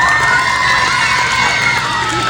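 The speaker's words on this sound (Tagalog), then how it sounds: "ang inyong masigabong palakpakan at hiyawan" A loud crowd at a national costume pageant cheers, shouts and screams continuously, with high-pitched voices and whoops layered over a dense roar of applause.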